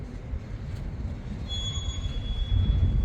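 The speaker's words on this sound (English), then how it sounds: "It's a long train" A long CSX intermodal freight train passes, rumbling low and steady, with a thin metallic wheel squeal rising partway through; no voices.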